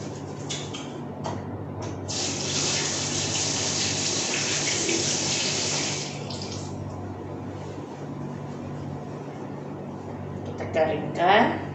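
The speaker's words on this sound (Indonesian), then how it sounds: "Kemudian mencuci tangan." Hands being washed under a running tap, a steady gushing stream that fills the first half and then gives way to quieter splashing, with a voice talking over it.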